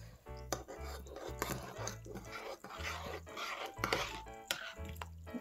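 Small spoon stirring Starbucks Christmas mocha latte powder with peppermint in a cup, giving repeated close scraping and clinking strokes against the sides in a steady rhythm, with no talking over it.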